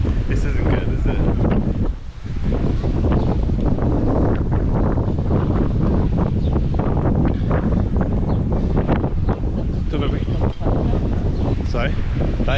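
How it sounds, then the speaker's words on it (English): Strong summer storm wind in Alcudia, Majorca roars and buffets the microphone continuously, loud and gusty, with a brief lull near the start. "The wind's now picked up."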